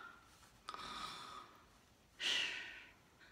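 A voice imitates an ogre's snore: a drawn-out inhaled rasp, then a louder, breathy snort-like exhale, close and alone with no other sounds.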